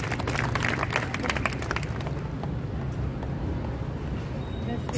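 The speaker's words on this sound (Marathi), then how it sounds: "त्यांच्यासाठी जोरदार टाळ्या." Loud applause from an audience of senior citizens at a Women's Day gathering, a dense, continuous patter of clapping holding steady for several seconds and thinning slightly toward the end, with some voices mixed in.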